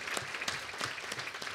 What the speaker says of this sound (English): offer you a great round of applause as well for being with us